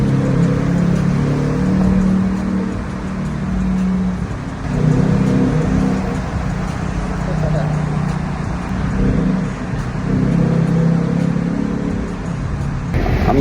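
A Ford Mustang GT drives through traffic, its engine humming and surging steadily from inside the cabin while people talk over it.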